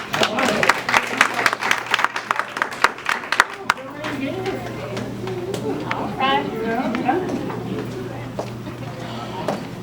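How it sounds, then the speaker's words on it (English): An audience at a live poetry reading applauds, dense clapping for a few seconds that thins out as talking takes over. "Clap it up for Joanne."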